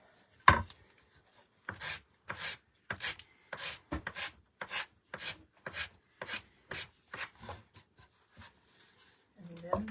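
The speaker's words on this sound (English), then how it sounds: "let's sand off these edges" Rhythmic back-and-forth rasping strokes of sanding the edges of a heart-shaped jewelry piece, about a dozen close, even passes after an opening knock.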